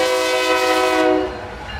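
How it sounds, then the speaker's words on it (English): Southbound empty diammonium phosphate freight train K815 heading to Mulberry in Bone Valley, a loud close multi-chime horn blast holding steady before cutting off, leaving a lower rumble. "Here is a southbound empty diammonium phosphate train heading back to the Bone Valley for more diammonium phosphate"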